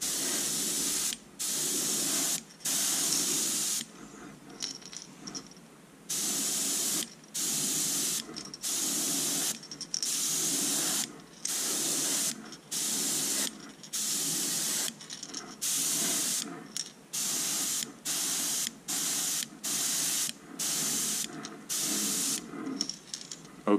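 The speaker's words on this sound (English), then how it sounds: "just barely pulling back on it so we can put on light coats as it says" Airbrush spraying color-shifting paint in light coats, giving repeated short bursts of bright, airy hiss separated by brief quiet gaps in an irregular on-off rhythm, heard close and without talking.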